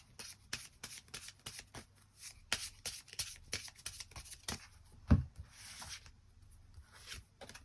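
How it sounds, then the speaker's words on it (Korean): Tarot cards shuffled by hand in a soft, continuous run of close rubbing swishes and light taps, with one sharper knock partway through, quiet and without voices. "추가 카드 뽑아보도록 하겠습니다"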